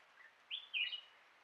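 A female black-naped monarch gives a few faint, high chirping calls beside Rocky Pool, a short burst of two or three notes against a quiet outdoor background.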